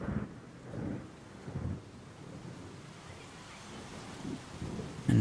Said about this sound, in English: And how the mighty thunder drowns out their voices.